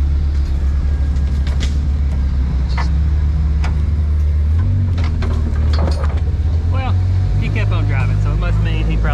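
A Jeep rolls past with a steady low engine drone that swells and shifts in pitch, loud and close throughout, with scattered clatter and people talking over it.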